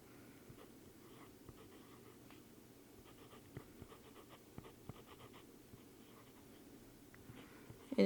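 A Le Pen technical drawing pen, 1.0 size, scratches faintly across paper in short, soft irregular strokes close to the microphone in a quiet room, with a slightly louder tap at the very end.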